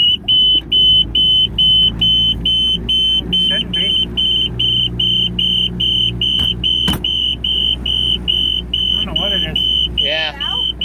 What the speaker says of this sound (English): better hope that alarm will silence.